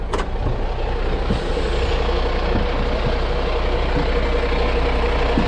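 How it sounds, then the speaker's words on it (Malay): A truck reverses on a road with its engine rumbling loudly and continuously close by, a brief air-brake hiss near the start and faint reversing beeps underneath, with no speech. "Lagi nak kereta ni undur balik"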